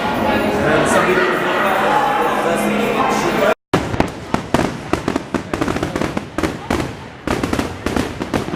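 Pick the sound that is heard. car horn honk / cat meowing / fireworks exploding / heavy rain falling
fireworks exploding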